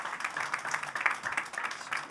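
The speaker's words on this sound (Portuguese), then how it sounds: "Uma salva de palmas para a nossa Amélia." Faint applause from an audience at a festival talk session, honoring a performer who just played, with a thin patter of claps that is quiet and somewhat distant but sustained.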